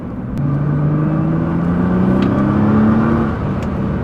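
A Nissan R35 GTR accelerates hard from inside the cabin, a loud steady engine drone rising in pitch over a few seconds with no talk.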